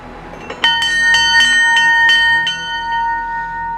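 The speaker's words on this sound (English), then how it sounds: "The bell on the Dunbrody replica is actually all that remains of the original ship." The ship's bell aboard the Dunbrody replica, the only surviving part of the original ship, rings out in about seven bright, metallic strikes at an uneven pace, each leaving a sustained ringing tone that fades after the last hit.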